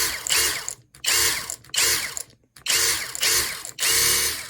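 Ingersoll Rand G4621 polisher running at low speed, about 3,000 RPM, in repeated bursts of a whirring, ratcheting motor whine, each cut off by brief silences as the trigger is released.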